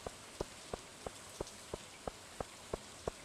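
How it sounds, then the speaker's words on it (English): Light in-game rain falls as a soft steady hiss, marked by a regular ticking of about ten drop sounds spaced evenly through the clip, quiet and without voices. "We got the rain coming down already"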